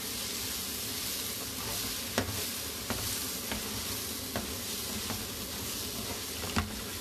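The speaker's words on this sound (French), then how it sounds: "je retourne une dernière fois mes légumes pour voir" Vegetables for a vegetarian pâté fry in a pan with a steady broadband sizzle, with a few sharp clicks and scrapes as they are stirred and turned.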